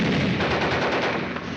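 Sustained burst of rapid gunfire from a battle scene in the 1951 Korean War film with tanks, loud and dense without pause, continuing alone with no talk throughout.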